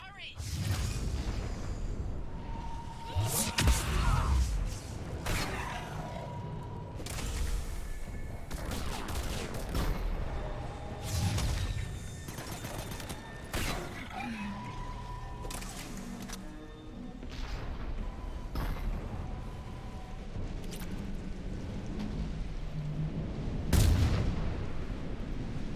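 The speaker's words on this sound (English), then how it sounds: "Random environmental explosion." Explosions and gunfire from the Mass Effect 3 battle on Thessia, with sharp blasts and bursts scattered through a busy combat soundscape, under intermittent talk and game dialogue.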